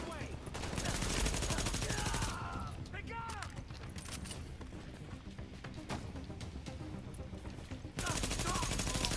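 Vector submachine gun fire in Tom Clancy's The Division, heard as rapid bursts of shots with mechanical clatter, loud at first, quieter through the middle, then resuming at the end.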